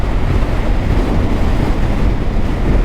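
Strong wind buffets the microphone in a constant loud rush on the 5300 ft peak of Blåhø mountain in Norway, with no other sounds standing out.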